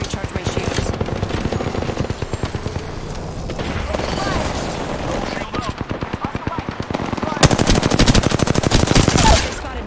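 Heavy automatic gunfire from a video game shootout, bursts of rapid shots close and loud with brief gaps, building into a sustained volley near the end, with a voice speaking over it.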